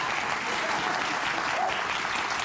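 A studio audience on Bill Maher's show claps in a steady, dense wash of applause that holds at an even level for the whole short stretch.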